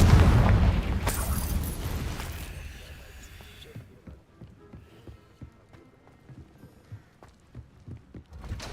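Confringo spell blast in Hogwarts Legacy on PC: a loud booming explosion at the start that decays over a few seconds, followed by quieter scattered thuds and game sounds.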